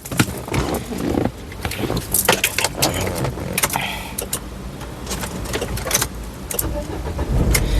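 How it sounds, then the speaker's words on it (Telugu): A 2016 Renault Duster RXL, said to have no starting trouble, starts on a single crank: a jangle of keys and interior clatter comes first, then the engine catches and settles into a steady idle close by. "సింగిల్ సెల్ఫ్లో కార్ స్టార్ట్ అవుతుంది"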